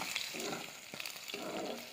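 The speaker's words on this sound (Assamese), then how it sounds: "তেলখিনি গৰম হোৱাৰ লগে লগে তাতে আদা দি দিলোঁ আৰু লগতে জলকীয়া দি দিলোঁ" Fresh ginger and green chillies dropped into hot oil in a wok give a faint, even sizzle, with a few soft stirring taps and crackles over about two seconds and no talking.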